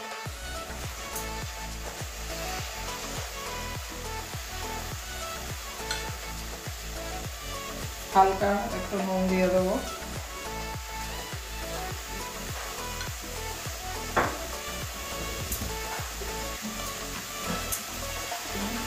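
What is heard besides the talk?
cabbage and potatoes steaming and sizzling in a kadai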